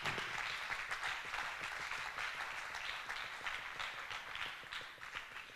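A church congregation applauds the Lord during a French-language service, a steady, dense wash of clapping that continues evenly throughout without a break.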